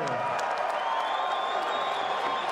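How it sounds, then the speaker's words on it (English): A New York fight-night crowd applauding and cheering kickboxer Giorgio Petrosyan at a Glory event, a distant, steady roar of clapping and voices under a ringside announcer's talk. "Big round of applause from this New York crowd for Giorgio Petrosyan."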